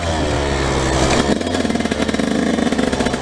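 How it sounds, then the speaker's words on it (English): A dirt bike engine revs hard while climbing hills, the loud buzzing drone shifting pitch midway before settling into a choppy, pulsing throttle rhythm close to the rider. "Now I'm at some hills, so I'm going to show you guys how to shift and just kind of how to ride"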